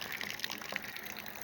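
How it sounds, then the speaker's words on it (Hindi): Rainwater pours steadily from a drainage pipe on a rainy evening, a continuous splashing gush with no break and no voices. "किसी ड्रेनेज पाइप से गिरता हुआ ये बारिश का पानी भी बहुत खूबसूरत नज़ारा देता है हमें"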